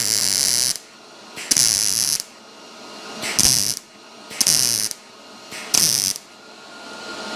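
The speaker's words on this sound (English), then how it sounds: "Take this self-tapper out." A ratcheting driver backs a self-tapping screw out of Camaro bodywork in repeated bursts of fast clicking, each lasting about a second and separated by short pauses, close and loud with no voices.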